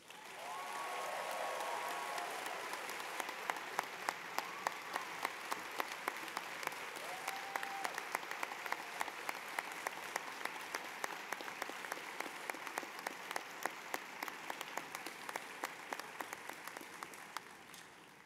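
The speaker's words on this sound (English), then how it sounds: "I'm sorry that the Masters of Taxation didn't get a rousing applause as the lawyers did." A large audience at a law school commencement ceremony applauds steadily, sustained clapping heard from a distance with some individual sharper claps standing out, fading near the end.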